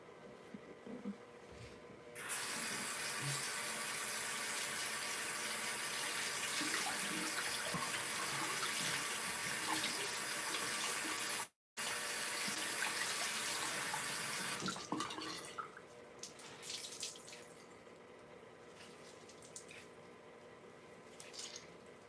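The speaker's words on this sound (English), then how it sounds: "I'm definitely gonna have to do another rinse right quick" A bathroom tap runs steadily for about twelve seconds while a face is rinsed, water splashing near the mic, then shuts off, leaving scattered drips and small splashes.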